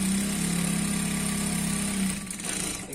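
A sewing machine running a straight stitch through salwar fabric, a steady close mechanical whir with rapid stitching rhythm that stops near the end, no talk.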